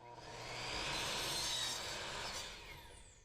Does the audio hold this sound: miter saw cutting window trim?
yes